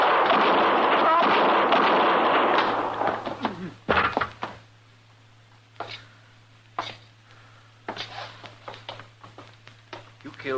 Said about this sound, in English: You killed both of them, Mr. Dillon. I didn't even get a shot off